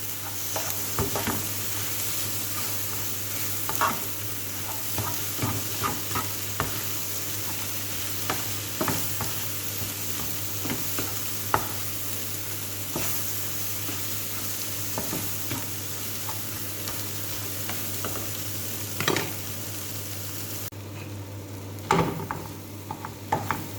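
Sautéed ingredients with oregano and crushed pepper stirred in a pan, a steady sizzle broken by frequent scraping and tapping strokes of a utensil against the metal, close and continuous, no voices.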